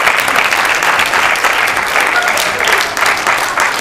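A theatre audience applauds a play with dense, steady clapping, loud and continuous throughout.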